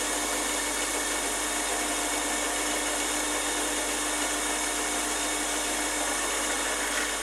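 A steady, high-pitched power drill whine as a 2.5mm bit bores through a wooden dowel, running unbroken, close and loud, with no pauses or voices.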